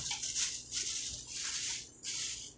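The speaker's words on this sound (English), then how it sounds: "Yeah, it's a paper bag." A paper bag crinkles and rustles in several soft, uneven bursts, close by and fairly quiet, with no talking.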